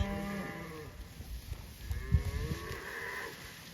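Cattle moo repeatedly in a pasture where a cow-calf mob grazes at ultra-high stock density, several drawn-out lowing calls rising and falling, moderately close, over quiet outdoor background.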